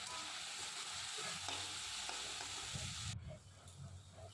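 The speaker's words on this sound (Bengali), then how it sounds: "দিয়ে লবণ দিয়ে ভাজবো, নাড়াচাড়া দিয়ে ভাজা দেবো।" Greens fry with salt in a pan, a dense close sizzle with scraping stirs, until the hiss drops sharply near the end to a quieter crackle, and there is no talking.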